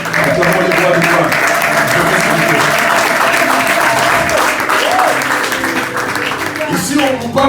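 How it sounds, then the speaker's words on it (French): A Sunday church congregation claps vigorously in praise of the Lord, loud unbroken applause mixed with voices calling out and tonal music or singing beneath the clapping. "Acclamons le Seigneur."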